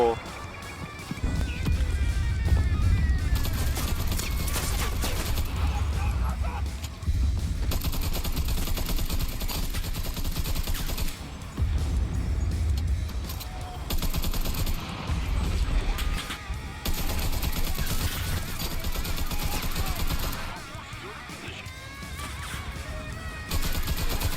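Repeated bursts from an MP34 submachine gun in the WW2 shooter Enlisted, German side, sound over steady combat noise, with speech continuing on top for most of the stretch.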